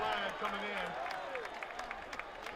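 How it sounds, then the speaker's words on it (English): Scattered clapping from the Ravenwood side of a rainy high school football game, soft and distant, with sparse claps under a commentator's voice and crowd murmur. "there's some clapping happen over there on Ravenwood"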